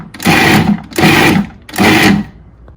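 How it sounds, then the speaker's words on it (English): Three short, loud bursts from a food processor chop onion, garlic, mushroom and eggplant, each pulse lasting about half a second with brief pauses between, close and alone without speech. "Using a food processor, first, chop up the onion, garlic, mushroom, and eggplant."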